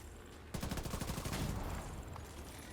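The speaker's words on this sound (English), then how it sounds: "I just love this G36. The rate of fire, the stability of it, the innate stability of it." A G36 rifle in The Division 2 fires a rapid automatic burst of about a dozen evenly spaced shots, loud and close, then falls back to quiet background ambience.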